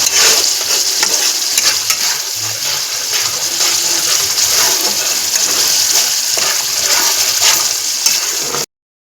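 Spice paste with salt sizzles and fries loudly in a pan as it is stirred for a potato and pointed gourd dish, a constant close hiss with scraping, cutting off abruptly into silence at the end.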